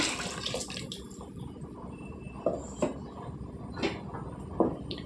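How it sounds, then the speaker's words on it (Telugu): Water splashes and sloshes inside a mixer jar, with several sharp clinks and swishes as it is rinsed, fairly close and without talk. "జార్లో వాటర్ వేసుకొని కడుక్కున్నానండి"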